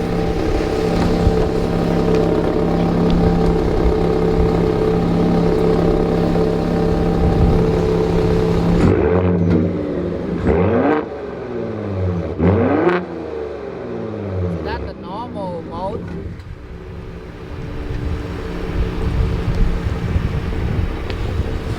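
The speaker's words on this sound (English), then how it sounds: "this Raptor it got like a best exhaust sound for the V6 engine ever on the F150" A Ford F-150 Raptor's twin-turbo V6 exhaust drones loudly, then revs in several rising and falling sweeps as the truck passes close by, with wind buffeting the microphone.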